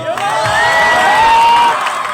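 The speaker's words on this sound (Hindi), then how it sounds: "अब आ रही है सर के लिए ताली बजाने की" A seminar audience cheers loudly, a dense crowd roar with whoops and shouts that swells and holds for about two seconds.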